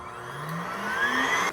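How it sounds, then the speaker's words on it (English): Moonsga MR7 Pro robot vacuum's docking station emptying dust with a steady, loud motor whir that rises in pitch, running continuously and alone. "Dust collection starts."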